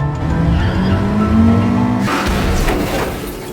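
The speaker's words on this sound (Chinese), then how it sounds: "他驾驶汽车径直朝着墙上撞了上去" A car in a film drives straight into the wall of an underground car park: a loud steady engine drone that gives way to a harsh crash and rumbling noise, close and without speech.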